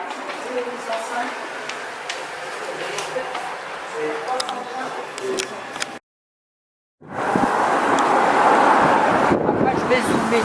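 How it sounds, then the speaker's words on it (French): Strong wind buffets a microphone at the Cherbourg port, a loud, rough rumble mixed with a talking voice, cutting out briefly before returning even harder. "Il y a du vent, beaucoup de vent. Je suis désolée pour vos oreilles."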